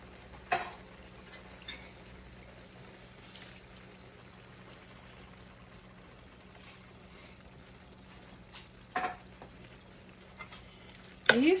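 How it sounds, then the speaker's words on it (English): Ground meat mixture with Rotel tomatoes and green chilies cooking down in a pot, giving a faint steady simmering hiss with a low hum beneath and a few louder stirring clanks scattered through. "these Rotel and the meat mixture is going to cook another 30 minutes to get some of the liquid"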